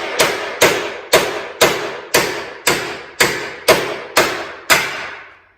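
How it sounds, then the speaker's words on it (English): Hammer blows drive a bearing out of a snowmobile jackshaft housing set on a socket, part of a Yeti Snow MX service. Ten sharp, evenly spaced metallic strikes come about half a second apart, loud and close, with short ringing decays. "Drive the bearing out."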